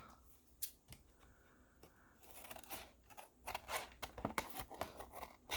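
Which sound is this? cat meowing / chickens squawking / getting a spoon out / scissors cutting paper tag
scissors cutting paper tag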